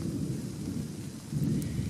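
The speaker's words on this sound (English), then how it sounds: "it's still thundering and storming around us" Deep thunder rumbles steadily and swells near the end, with rain pattering throughout during a spring thunderstorm beside a creek at a Florida campsite.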